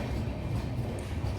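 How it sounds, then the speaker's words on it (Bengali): A train pulls out of New Jalpaiguri (NJP) railway station with a brief, steady, low rumbling roar heard up close. "এই ট্রেন আমাদেরকে ছেড়ে বেরিয়ে গেল"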